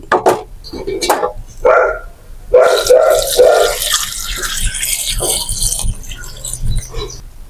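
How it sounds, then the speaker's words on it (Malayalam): Three cups of water are poured into a pot of cauliflower with turmeric and salt, making a close, rushing splash for a few seconds after some knocks, then easing into quieter dribbling. "ഇതിലേക്ക് ഇനി മൂന്ന് കപ്പ് വെള്ളം ഒഴിക്കുന്നുണ്ട്"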